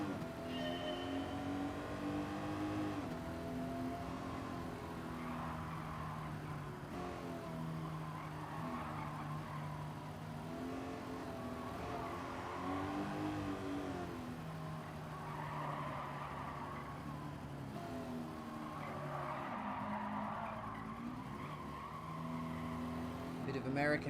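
An American muscle car in Gran Turismo 7 during a licence test, engine revving through rising and falling gear sweeps with tyre squeal and skidding, steady and prominent while someone talks over it at times.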